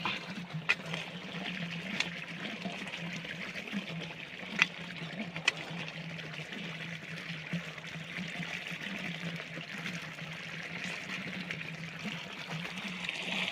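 Irrigation water flows steadily across a farm field, a soft continuous rush with occasional faint clicks and knocks nearby.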